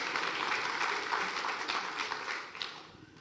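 Audience applause fills a large evening event hall with many Tanzanians present, a dense steady wash of clapping that holds loud throughout and tapers slightly near the end.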